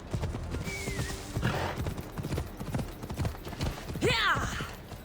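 Hooves clip-clop in a steady trotting rhythm from a horse in Assassin's Creed Odyssey, with a brief whinny and other game sounds and a voice talking over it.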